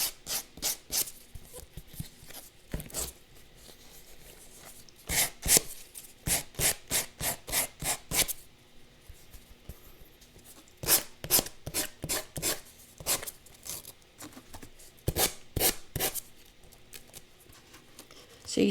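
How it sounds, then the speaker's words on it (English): Excess washi tape is sanded off a craft piece in quick bursts of short scratchy back-and-forth strokes, close and fairly quiet, with brief pauses between the runs. "I'm going to go ahead and sand off the excess"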